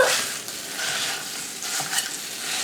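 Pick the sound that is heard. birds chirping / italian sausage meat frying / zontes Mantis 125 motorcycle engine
italian sausage meat frying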